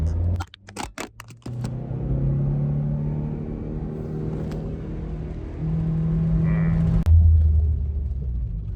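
Minivan engine revved hard in first gear toward 6,000 RPM, a loud sustained low drone holding steady for several seconds, rising in pitch and then surging near the end, with a few clattering knocks at the start.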